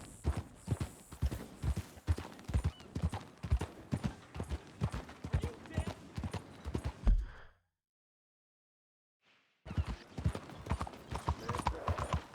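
Steady horse hoof clip-clops in the video game Red Dead Redemption 2 ring out in a quick repeating rhythm, close and clear, then cut to a brief silence before the hoofbeats resume.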